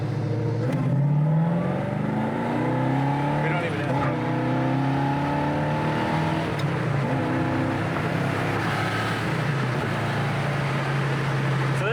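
A 1970 Chevrolet Chevelle SS cruises on the road at highway speed, its steady engine drone rising and shifting in pitch over constant road and wind noise.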